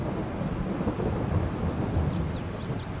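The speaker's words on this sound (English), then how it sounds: "Oh, it's starting to rain." Rain and thunder beginning in Farming Simulator 22, a steady loud wash of rainfall with low rumbling thunder rolling underneath throughout, with no talking.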